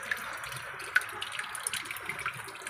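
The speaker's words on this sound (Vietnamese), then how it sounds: "Máy này là nó xả nước hết nha mọi người" Water drains from a Sanyo AQUA washing machine being tested for a U4 error, a soft, steady splashing and trickling with small irregular gurgles, fairly quiet and close.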